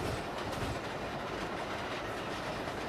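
A train rolls on rails through a rail yard, a continuous loud rumble with faint clickety-clack, heard from on board and steady throughout, with no talking.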